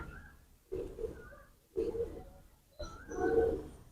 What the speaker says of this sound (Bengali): আর এই যে বেজি লাইনের মাদি কবুতর